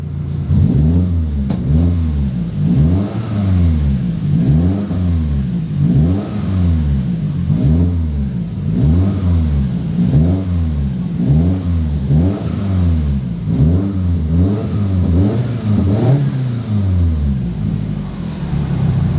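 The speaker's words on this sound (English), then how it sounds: "It idles perfectly." A 2005 Subaru STI engine idles close up after its P0011 fault was repaired, with air still being bled from the cooling system. It gives a loud, steady, evenly pulsing burble throughout, with no talking.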